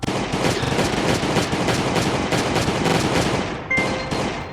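Gunfire from the video game Last Day on Earth rattles in dense, rapid bursts, loud and nearly continuous, with no voices.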